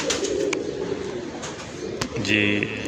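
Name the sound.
pigeon cooing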